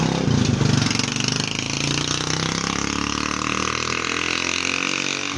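A motorcycle engine idles close by, a loud, steady, rough rumble with a constant mechanical throb that holds without pause.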